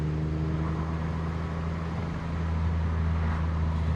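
An old BMW car drives fast on worn-out tires with a death wobble, giving a steady low engine and road drone with a persistent hum and rumble throughout.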